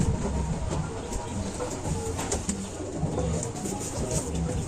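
Racing pigeons cooing at a loft during a semi-final race, low soft coos repeating steadily over a busy, dense background of birds and ambient noise, with no talking.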